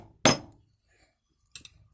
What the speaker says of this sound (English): I'll just tap this all the way in and down.